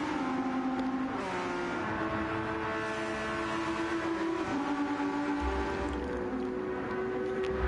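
A pink and blue Porsche race car at Autodromo de Interlagos, its engine a loud, continuous drone with rising and falling pitch as another car follows close behind in the slipstream.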